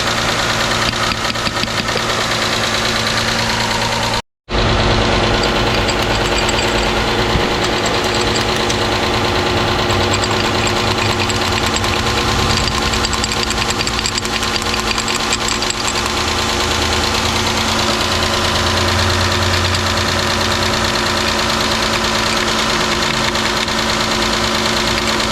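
A swapped-in 3.5 litre junkyard engine in a Chrysler 300 runs at a steady idle, loud and close, with a fast ticking valve-train clatter over the drone and one brief cut-out early on.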